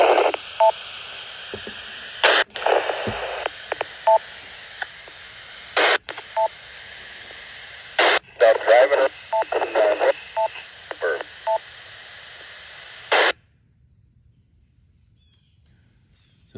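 A Baofeng UV-5R handheld ham radio picks up a reply transmission: bursts of hiss and crackle broken by short beeping tones and squelch clicks, stopping abruptly into near silence.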